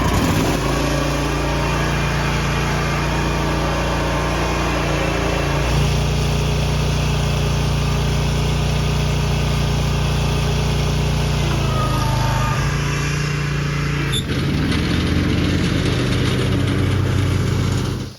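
Used zero-turn lawn mower engine running loudly and close throughout a test ride, a steady droning hum with slight shifts in pitch and load, no talk.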